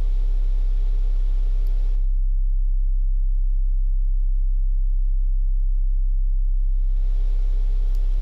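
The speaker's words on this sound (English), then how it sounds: "you get the all the sine waves stuck together, and you can create this kind of low end." A Yamaha DX7 FM synthesizer plays a deep sustained sine-wave bass tone that holds steady and loud. A fuller, brighter layer sits above it at the start and end, and the low drone continues alone in between.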